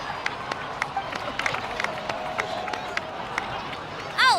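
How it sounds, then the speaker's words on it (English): Applause from a crowd at a victory party celebration in the Genshin Impact video game, a steady spatter of many hands clapping at moderate volume, continuing throughout. "please give another round of applause for them"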